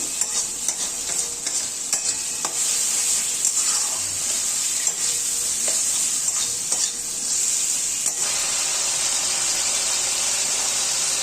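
Spice masala for bottle gourd kofta curry, with a little sugar added, fries in oil as it is stirred. A continuous, close sizzle is broken by occasional scraping stirs.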